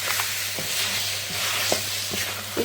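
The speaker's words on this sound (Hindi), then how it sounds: "इसके साथ ही हम ऐड करेंगे 1 टेबल स्पून मेथी। इसे भी डालकर हमें अच्छी तरह से भून लेना।" Mutton karahi with fenugreek frying in a wok, a dense continuous sizzle with scattered scraping stirs and clinks close by, no talking.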